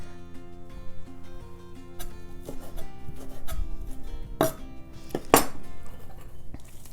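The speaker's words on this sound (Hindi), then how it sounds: "बेसिल लीव्स फ्रेश ले लेंगे, इसको भी छोटा छोटा सा बारीक काट लेंगे" Fresh basil leaves are finely chopped with a knife on a board in a home kitchen, giving irregular sharp taps and scrapes, some louder clacks near the end, close and with no talk.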